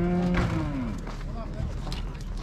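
A cow moos at a busy livestock market in a Kazakh village. One long, falling low moo stands out near the start over crowd murmur and background market noise, and voices talk nearby.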